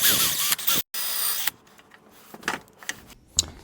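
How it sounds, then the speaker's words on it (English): A power drill bores a hole into a piece of wood, with a couple of short whining bursts near the start. Quieter clicks and handling noises follow, and there is no talk. "We're going to drill down 3/4 of an inch."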